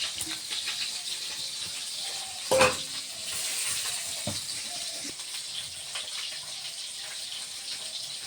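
Fish frying in a pan gives off a continuous close sizzle, with one sharp utensil clink early on and a few light knocks over the steady hiss, no voices.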